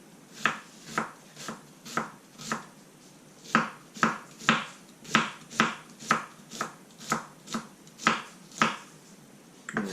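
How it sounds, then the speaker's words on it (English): Knife slicing through a red onion on a cutting board, a steady run of about twenty crisp, close chops at an even, brisk rhythm with no voices. "Just slice it, the red onion"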